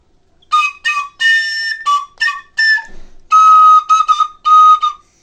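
A shrill toy flute plays short bursts of high notes in an uneven rhythm, close and loud, with a brief pause midway.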